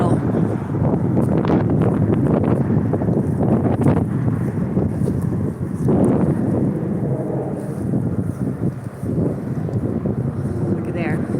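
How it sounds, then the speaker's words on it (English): Breezy outdoor wind at sunset in Tulsa, Oklahoma, a steady broadband roar buffeting the microphone throughout, with someone talking intermittently over it. "it's been very breezy. I'm sure you can hear that."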